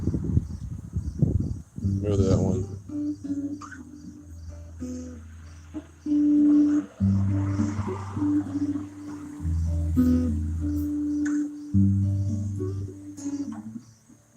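Acoustic guitar in DADGAD tuning rings with sustained low notes and chords, while someone talks briefly near the start.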